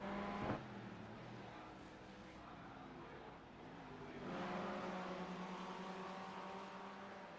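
GT race cars take the last corner at Interlagos during a three-hour race, engines droning at a distance, with one engine note rising as a car accelerates out of the bend.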